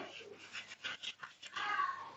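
A dog whimpers and yips in a series of short, high, whiny cries, close by and fairly quiet.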